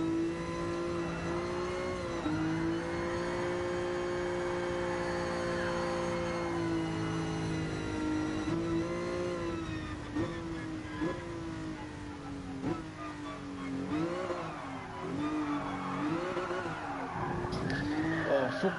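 Car drifting through the corners of Suzuka circuit in GT Sport, with a steady engine drone rising and falling and long tyre squeals sweeping through the turns, loud and continuous.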